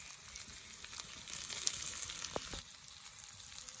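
Onions sizzle in hot oil in a home kitchen pan for a khoyra fish curry, a faint steady crackle with a brief scraping stir partway through.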